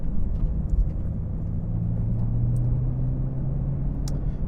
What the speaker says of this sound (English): traditional BMW inline six sound, lots of sort of synthetic pops and crackles